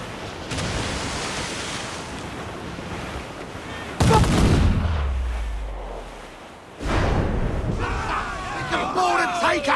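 Ship cannons fire during a naval battle in Assassin's Creed IV Black Flag: a heavy booming blast with a long rumbling decay, then another sharp volley over wind and ocean noise, with shouted voices around it.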